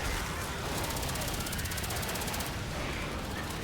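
Rapid automatic gunfire from the video game Left 4 Dead 2, with dense bursts that pulse steadily for a few seconds, loud and close, under the noise of gameplay.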